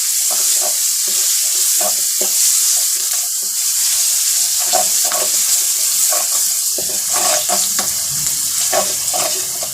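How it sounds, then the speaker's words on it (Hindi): Crushed chillies, turmeric, salt and green and red chillies frying in hot oil for a bottle gourd sabzi, a steady close sizzle with scattered crackles and stirring scrapes throughout, no talk. "1 से 2 मिनट तक इसको भूनेंगे"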